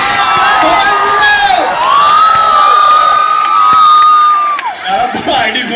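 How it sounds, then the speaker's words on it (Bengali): A large crowd cheers and whoops loudly at a film trailer launch event, with shouting voices and a long rising whistle-like cry carrying over the roar for several seconds before it breaks into scattered calls. "জোরে হাততালি হবে।"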